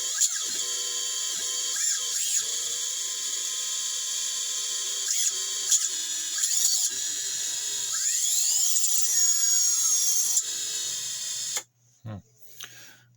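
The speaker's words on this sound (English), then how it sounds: "As soon as I arm it, the motors come" Electric motors on a small first-build drone spin up after arming with a steady, high-pitched whine. The whine holds close and loud for about eleven seconds with faint shifting tones, then cuts off abruptly.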